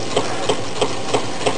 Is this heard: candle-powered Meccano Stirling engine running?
yes